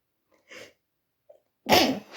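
A single sneeze lands close and loud after a few quiet breaths and small mouth sounds, with no speech over it.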